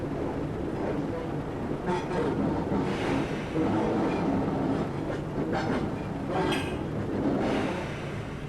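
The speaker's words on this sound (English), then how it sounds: "So I'm just applying the brakes lightly to lightly bring our speed down." A Class 142 diesel train in Train Simulator 2015 slows under light braking, giving a steady, continuous rolling rumble with faint clattering throughout.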